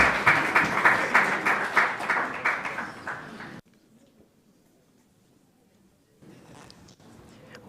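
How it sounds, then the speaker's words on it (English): Loud audience applause at the Commonwealth People's Forum opening ceremony for a keynote speaker, dense clapping for about three and a half seconds before cutting off abruptly, followed by quiet room murmur and some faint scattered noise. "One more round of applause for our keynote speaker, Right Honorable Moka Balisa"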